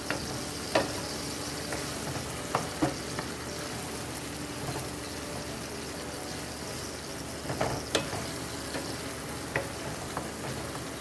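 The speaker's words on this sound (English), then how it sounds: "Then we're just gonna stir. I like my tomatoes to be mashed out some." Tomatoes with salted codfish and okra simmer in a pot with a soft, steady sizzle. A spoon gives scattered knocks and scrapes against the pot as the tomatoes are stirred and mashed, fairly quiet and close.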